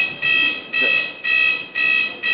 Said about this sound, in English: Oh, that's the fire alarm.